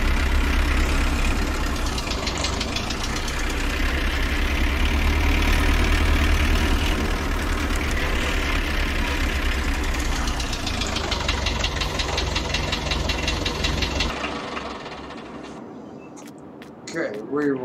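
Farm tractor idling with a loud, steady, knocking diesel rumble up close, then dropping away near the end as it shuts down.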